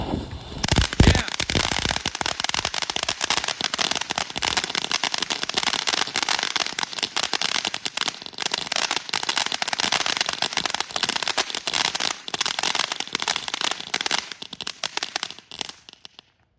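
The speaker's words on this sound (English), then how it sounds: "Second fountain, we have Bottle of Sparks." A TNT Bottle of Sparks firework fountain crackles loudly and steadily outdoors, a dense spray of sharp pops running for about fifteen seconds before it fades out at the end.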